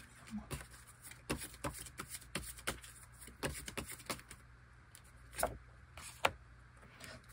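Tarot cards being shuffled during a breakup reading, heard as a run of soft, irregular riffling and tapping bursts, fairly faint and close, with no talking.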